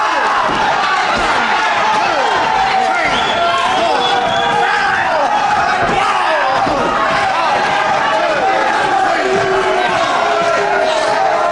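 A wrestling arena crowd at a televised bout jeers and shouts in disapproval, a loud, dense roar of voices sustained throughout with scattered yells and thumps from the ring.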